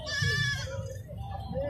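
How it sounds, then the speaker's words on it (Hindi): Goat bleating at a livestock market where freshly kidded nanny goats are sold, a harmonic bleat near the start that trails off into low market murmur and background noise. "इसके पीछे भी एक बकरी है।"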